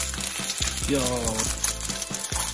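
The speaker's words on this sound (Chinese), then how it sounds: "然后把这个鸡蛋呢，稍微炒一下" Egg stir-fried in a pan until golden makes a steady bright sizzle, broken by rhythmic spatula scrapes and taps, while a person speaks over the cooking.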